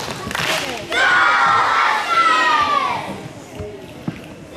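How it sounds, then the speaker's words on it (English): A crowd of young school children cheering and shouting together at a morning school assembly, a loud rising roar that peaks and then fades away over a few seconds. "Let's give them a big pesky cheer."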